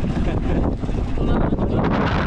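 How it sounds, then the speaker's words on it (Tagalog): Strong wind roars and buffets the microphone at sea amid big waves, a heavy continuous rush of noise with gusty swells throughout. "Medyo malakas yung hangin ngayon at saka malalaking alon."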